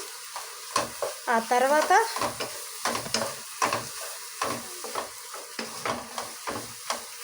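Turmeric, coriander powder and spices sizzling as they fry in a pan while being stirred in repeated scraping bursts, with a voice talking briefly over the cooking.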